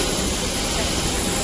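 An airplane engine at an airport hums and roars steadily as a broad, continuous drone for a brief moment, close and fairly loud.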